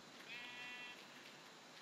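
A baby sheep in Minecraft bleats once, a short wavering cry near the start, faint and alone over a quiet background hiss.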